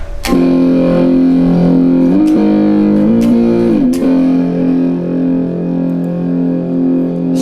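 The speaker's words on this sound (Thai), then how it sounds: "เอาโอเวอร์ไดออกไปแล้วเอาดิสซชันใส่แทน" Electric guitar through an Amplitube 5 metal distortion amp model sustains thick, buzzing, heavily distorted chords with a few sharp pick attacks and brief pitch slides, loud and close.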